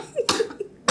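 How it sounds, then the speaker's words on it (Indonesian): Two harsh bursts of human coughing, close and fairly loud, separated by a short pause with a faint voiced sound in between. "Aku beneran batuk."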